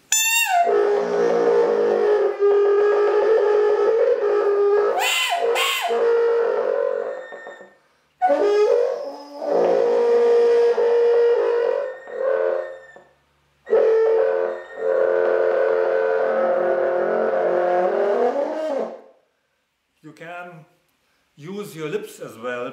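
A French horn played with a zuzu bird-whistle device held in the mouth, giving loud, wavering, pitch-bending warbles in long phrases, broken by brief pauses and ending in short chirping bursts.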